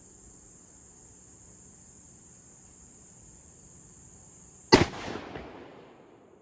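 .270 rifle fired while sighting in: one sharp, loud shot cracks suddenly after several seconds of a steady high insect trill, then a rolling echo fades over about a second and a half. No talk.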